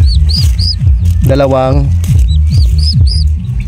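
A brood of Bourbon Red turkey poults and hybrid chicks peep and chirp in quick, repeated high calls close by, with someone speaking over them.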